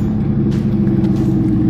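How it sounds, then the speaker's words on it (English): A lowered green Lamborghini Huracan with an aftermarket exhaust pulls in, its engine giving a steady, deep, loud rumble close by with slight revving swells. "And here comes Steve in his Lamborghini."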